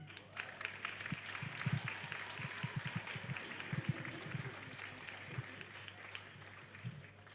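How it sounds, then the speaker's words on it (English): Audience applause at a jigsaw puzzle competition awards ceremony, steady clapping from a moderate crowd lasting throughout, fairly distant and even, with scattered louder claps standing out. "We can applaud that too."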